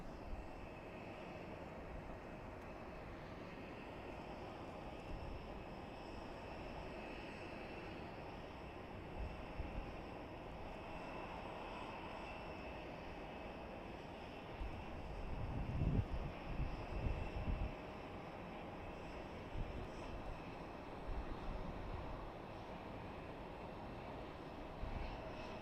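Delta airliner from LAX at Boise Airport, a steady jet engine roar heard from a distance, with light wind buffeting the microphone and a brief louder swell partway through.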